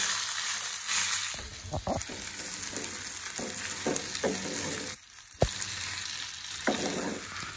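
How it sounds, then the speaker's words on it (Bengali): Chicken pieces fry in oil for a chicken curry, a soft continuous sizzle broken by repeated scraping strokes of a spatula stirring the pan, with one sharper knock midway. "এবার আমি চিকেনগুলোকে এটার মধ্যে দিয়ে দেবো।"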